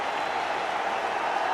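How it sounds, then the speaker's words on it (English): A cricket team applauds a fifty by Virat Kohli during India's first pink-ball Test match, against Bangladesh in 2019. The steady clapping is heard through broadcast crowd ambience, with no distinct voices. "The team stands up to applaud another 50 from one of the best batsmen in the world."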